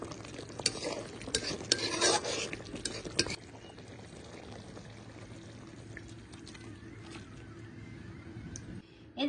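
A rohu fish curry with tomato, split green chillies and garam masala being stirred in a pot, quiet scraping and clinking spoon strokes at first, then settling into a faint low simmer.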